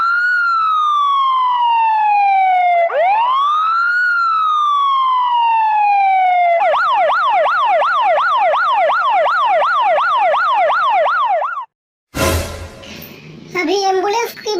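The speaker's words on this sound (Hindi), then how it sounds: "वाह, इमरजेंसी आ गया, एम्बुलेंस को लेके जाना पड़ेगा।" Cartoon ambulance siren, loud and close, first a slow rising-and-falling wail, then a rapid warbling yelp, followed by a voice speaking briefly.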